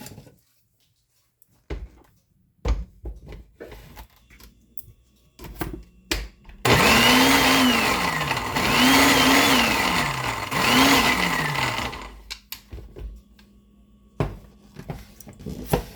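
A kitchen blender crushes dates with sattu powder for a date shake, whirring loudly for about five seconds in three rising and falling pulses, framed by clicks and handling knocks before and after.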